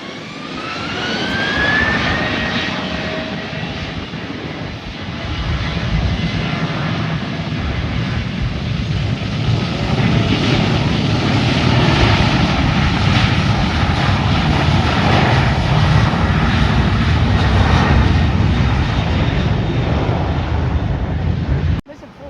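An airliner lands at San Juan airport in a loud, sustained jet roar, with a rising engine whine early on and wind buffeting the microphone, building to a strong rumble before cutting off abruptly.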